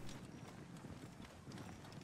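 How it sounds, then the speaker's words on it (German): Horses gallop in Assassin's Creed Origins, a steady drumming of hooves close by with a dense rumbling bed of game noise throughout. "Die kommen einfach mit Pferden reingerannt"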